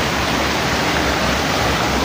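Strong rushing water roars steadily and loudly at close range, a dense unbroken torrent like a fast stream or small waterfall, with no voices over it.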